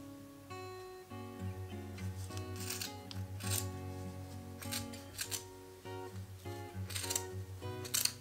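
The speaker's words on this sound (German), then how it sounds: "Nun schneidest du die Garnfedern durch, während du sie in der Mitte des Rings zusammenhältst." Scissors snip through yarn strands wound between two cardboard rings while making a pompom for a toilet-paper-roll Christmas gnome, a run of soft crisp cuts over quiet background music.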